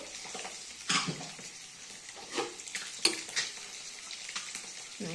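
Eggs fry in a pan with a soft, uneven sizzle, broken by intermittent utensil scrapes and clinks from stirring close by.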